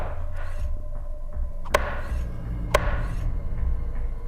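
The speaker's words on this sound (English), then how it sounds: "it's just focusing on this chopping sound" A knife chops steadily on a board in a scene from the film Curse of Chucky, two sharp louder strikes standing out over a constant low hum, with no talking.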